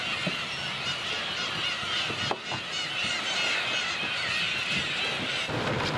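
On an island, a dense colony of black-tailed gulls calls in a continuous, loud chorus of overlapping honking and squealing cries, with a single sharper sound partway through.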